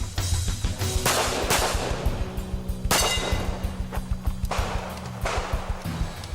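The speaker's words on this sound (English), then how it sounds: "Extra shots early force a reload." Pistol fire on an IDPA practical shooting stage at a championship match: a series of sharp, loud reports with clanging steel and echo, several shots in bursts with a pause for a reload, no talk.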